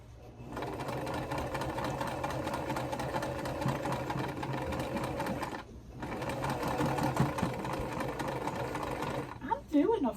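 A sewing machine runs steadily while stitching a full quilt seam for a butterfly quilt row, a close continuous motor whir with a brief pause midway and a faint voice underneath.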